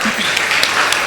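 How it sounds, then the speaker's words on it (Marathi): Audience applause at a gathering, a dense burst of steady clapping that fills the short moment from start to end, loud and close. "सर्वांनी टाळ्या वाजवाव्यात."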